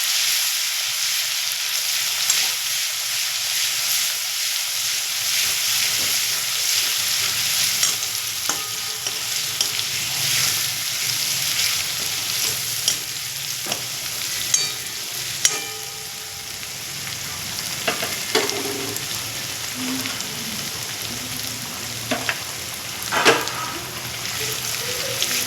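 A spoonful of garlic paste fries in hot oil, giving a loud continuous sizzle with frequent scraping and stirring clatter from a spoon against the pan throughout.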